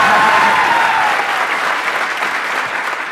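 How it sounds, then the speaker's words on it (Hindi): A crowd at a live poetry and motivational talk breaks into full, loud applause for about three seconds, a thick, continuous patter of many hands that eases slightly toward the end, with a brief tonal sound early on. "कैमरा फोकस किया जाए उन लोगों पे जो पूरे दिल से तालियां बजा रहे हैं।"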